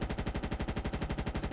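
Rapid, steady machine-gun burst from a mounted turret in the SOCOM 3 U.S. Navy SEALs PS2 game, a loud, evenly spaced stream of shots filling the whole moment without any voices.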